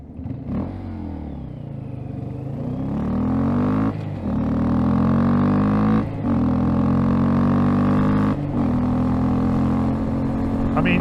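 A tuned Honda Grom motorcycle engine revs hard through the gears, its steady drone climbing in pitch and dropping briefly at each of three or four shifts, loud and close throughout.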